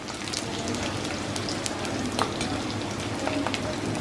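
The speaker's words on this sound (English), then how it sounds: "in some hot oil, she has put the sliced onions" Finely sliced onions frying in hot oil, heard as a steady, close crackling sizzle with small pops throughout.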